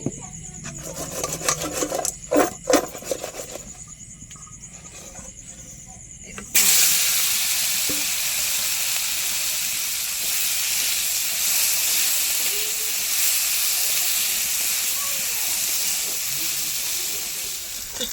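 Salt-and-turmeric-coated food frying in a pan, with a few clattering knocks early on before a steady, close sizzle takes over and continues evenly to the end.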